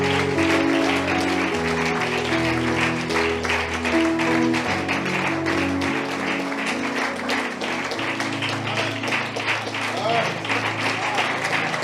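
A church congregation applauds in steady, dense clapping that goes on without a break, mixed with voices and music.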